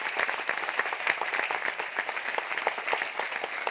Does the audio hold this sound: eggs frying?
no